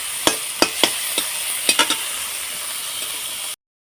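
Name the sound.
prawns frying in oil in a wok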